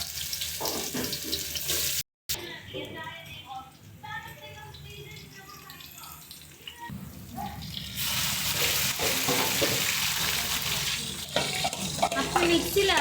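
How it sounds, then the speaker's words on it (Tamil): Onions added to hot oil with cinnamon and cloves for a mutton kaima kulambu, a sizzle that swells and stays loud, broken by stirring and a quieter stretch, heard up close. "பட்டை லவங்கமா சூடாயிடுச்சு. வெங்காயத்தை சேர்க்கணும்."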